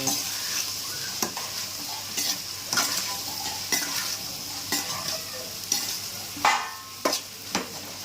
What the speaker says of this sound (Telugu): చూడండి, కలుపుకుంటుంది మా మమ్మీ.